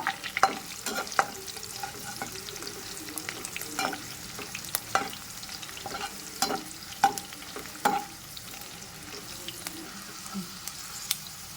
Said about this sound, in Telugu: పచ్చిమిర్చి ఎండుమిర్చి వేగినాయండి